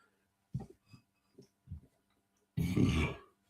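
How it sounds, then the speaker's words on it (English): A person burping on demand, a few short guttural throat pulses followed by one long, loud, drawn-out belch, close and otherwise quiet. "I can burp on demand."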